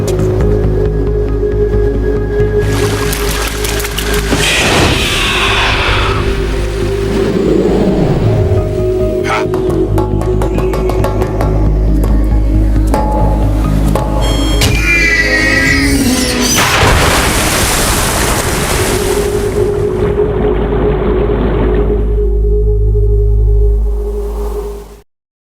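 Boat skimming fast across water in the Metal Gear Solid 2 video game, a loud continuous rushing wash with deep booming rumble and bursts of spray, steady throughout before cutting off at the end.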